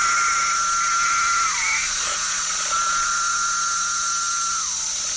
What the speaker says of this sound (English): For about 4 weeks, woods and suburbs will be ringing with the cicadas